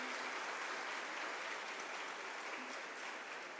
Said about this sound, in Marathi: मला जोरदार टाळ्या होत्या महिला मंडळ.